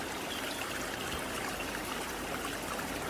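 Water trickles and gurgles steadily at a dam on a rocky river, a soft, even, continuous babble with no talk.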